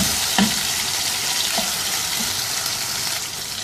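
Tomatoes and garlic-ginger paste are stirred in a pot, with steady sizzling and frying, occasional spoon scrapes against the pot, and no talking.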